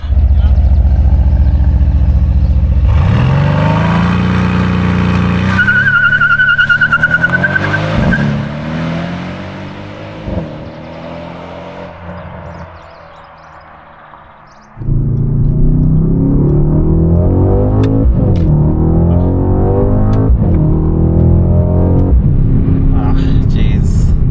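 A 2021 Mercedes-AMG C63s Coupe (W205) driving hard, its engine rising and falling through gears with tire squeal in places, then easing off before accelerating again, loud and close.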